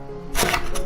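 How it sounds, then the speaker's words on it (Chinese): A knife cuts through a tomato into thin slices on a cutting board, giving a couple of quick crisp chops close by after a brief quiet moment. "西红柿切薄片"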